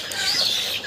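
A healthy desi Faumi chicken makes a short, close clucking call over a steady noisy background, lasting under a second.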